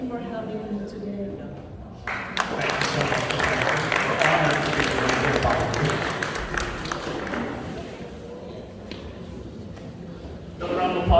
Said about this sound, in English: Another round of applause for Nadia.